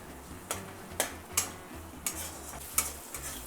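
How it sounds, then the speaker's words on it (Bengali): Spices for a pea curry are stirred in a pan with a metal spoon, making six or seven sharp scraping clinks at a steady rhythm over a low hum and a faint sizzle. "এবার ভালো করে আমি মিশিয়ে নিচ্ছি"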